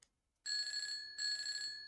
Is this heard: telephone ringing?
yes